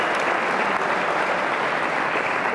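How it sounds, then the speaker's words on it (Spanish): An audience at a frontenis match at Club Libanés applauds a world champion player as he is introduced, a loud, dense and even burst of clapping. "Un fuerte aplauso."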